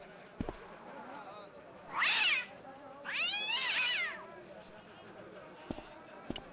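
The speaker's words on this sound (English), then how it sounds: "The cat was an ugly brute who looked like he owned the joint." A cat in the video game Broken Sword meows twice: a short meow, then a longer, drawn-out caterwaul. A few sharp clicks sound around the meows against a quiet background.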